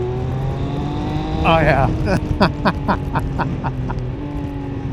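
A 2025 Triumph Speed Triple 1200 RS engine revs up sharply, then settles into a throbbing idle with a rising and falling pitch, while someone briefly speaks over it.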